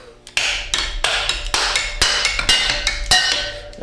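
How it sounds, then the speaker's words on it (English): Sharp metallic strikes from a pry bar hammer, about eight evenly spaced close hits with ringing decay between, during a vehicle build. "Use your pry bar hammer."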